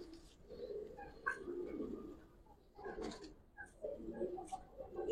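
Giribaz pigeons coo in soft, low, repeated throaty phrases up close, with faint chirps and light background noise.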